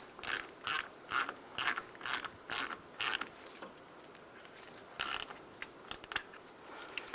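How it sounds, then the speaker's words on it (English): A ratchet tightens the negative battery terminal bolt on a 1992-1996 Ford F-150, giving quick bursts of close, crisp clicking in a steady rhythm, a pause, then a few more short bursts. "Push that negative terminal all the way down on that post and tighten up the bolt."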